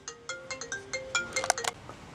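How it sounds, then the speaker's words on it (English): A telephone rings in a workshop with a repeating electronic ringtone, a series of bright chirping tones in quick succession over about two seconds, fairly loud and close, with no talking. "Hold on a minute. I got to answer the phone."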